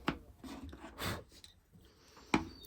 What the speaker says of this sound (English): by chiseling them down to the layer of freshly epoxied fabric